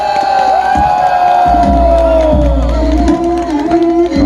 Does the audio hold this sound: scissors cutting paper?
no